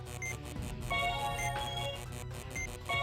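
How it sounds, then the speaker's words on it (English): An electronic phone ringtone in the video game Trauma Center: New Blood chimes repeatedly in a steady looping melody, loud and continuous over a sustained game backdrop. "I'm getting a phone call."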